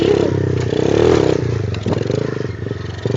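Motorcycle engine revving hard during a wheelie with a passenger seated on the rear tail section, a loud, close, rising and falling mechanical roar with clattering surges throughout.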